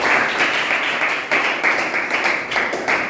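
A class of eighth-grade students gives a big round of applause for a correct answer in a maths lesson, a steady dense patter of many hands clapping throughout, fairly close and even.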